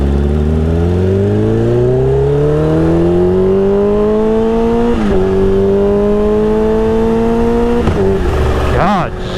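A Kawasaki Ninja H2 motorcycle engine accelerating on a ride, its loud near pitch climbing steadily through gears with short dips at each shift, under constant wind rush.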